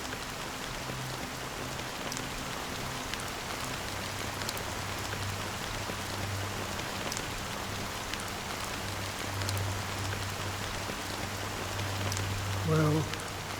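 Steady rain hisses down in the Honkai: Star Rail video game, a constant wash of drops on surfaces with a low hum beneath it, at an even level throughout.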